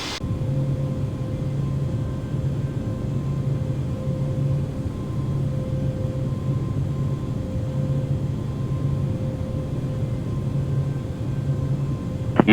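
Steady low engine rumble with a constant tonal hum, as from an airliner taxiing on the ground at Houston George Bush Intercontinental Airport; continuous and even in level, with no talk.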